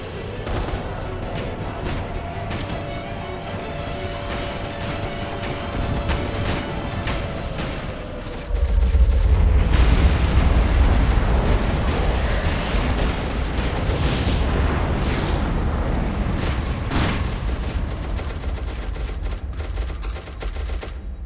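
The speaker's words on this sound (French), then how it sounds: "Là on tire parce qu'on a gagné, parce que voilà." Rapid automatic gunfire from a Roblox SCP breach game fills the whole stretch, dense and continuous, with heavier booming bursts partway through and no talking.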